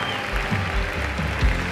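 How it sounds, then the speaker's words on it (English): A church audience claps along during an energetic worship service, a steady wash of hand claps filling the whole short stretch at moderate loudness. "Somebody clap your hands"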